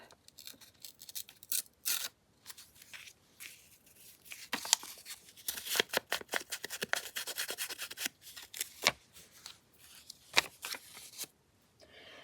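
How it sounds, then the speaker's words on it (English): Paper being torn and rubbed at the corner of a handmade grungy patriotic flip-flop journal: a series of close, dry ripping and rustling bursts spread across the clip, with short pauses between them and no talking. "I'm going to tear this corner off a little."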